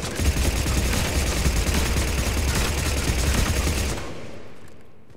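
The Blood Pack Punisher fires in Mass Effect 3's Firefight DLC in one loud, continuous automatic burst from its twin independently firing barrels, lasting about four seconds before it cuts off and rings out briefly.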